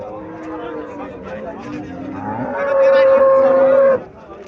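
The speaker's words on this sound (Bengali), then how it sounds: "শাহিওয়াল জাতের সার বাছুর" A Sahiwal bull calf at a cattle fair in Cumilla lets out one loud, sustained, close moo after a stretch of people talking nearby.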